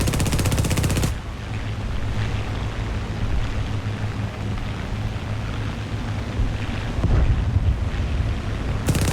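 A Spitfire Mk IIa's wing machine guns fire in a flight combat game, a dense sustained rattle over a roaring engine drone, loud and close, with a short burst at the start and heavier firing later.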